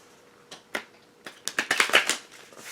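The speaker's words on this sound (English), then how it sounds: "I do some riffle shuffling" A deck of playing cards riffle shuffled by hand: a few scattered taps build into a quick, close burst of crisp, fluttering clicks that stops abruptly, with no voices.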